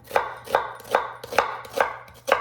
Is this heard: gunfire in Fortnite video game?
no